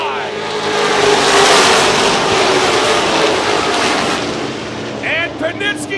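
Race cars at Seven Rivers Racing roaring two by two into turn 3 under power, a loud sustained engine roar swelling and fading, with a commentator talking over it near the end.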